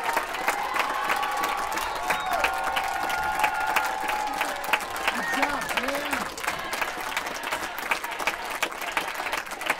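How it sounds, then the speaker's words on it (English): A marching band audience applauds and cheers its director, steady crowded clapping lasting nearly ten seconds with scattered whoops and voices mixed in, fairly loud and continuous throughout. "So big round of applause to Mr. Kellenberger."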